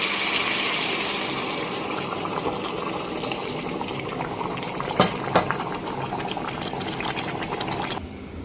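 Broth poured back over softened, sautéed meat in a pot, a steady broad bubbling and liquid rush that fills the whole stretch, with a couple of sharper clinks midway before it drops off abruptly near the end.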